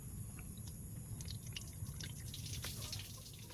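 Water trickling and dripping softly as it is poured off settled Polynesian arrowroot (panaryen) starch, a quiet steady liquid sound with scattered drips over low background hum.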